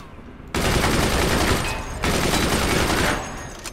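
Weapon fire in the physics fort-building game Forts, two dense, loud barrages of rapid shots and roaring blasts, each beginning abruptly and fading after about a second and a half.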